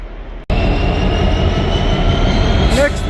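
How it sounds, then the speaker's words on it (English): A Class 66 diesel locomotive hauls a freight train bound for a Carlisle yard. It starts with a sudden loud onset, then a steady, close rumble of engine and rolling wagons that holds throughout, with a brief squeal of wheels near the end. "66066 Jeff Spencer with OZ71 0 Zulu 71 from Millham to Carlisle network yard."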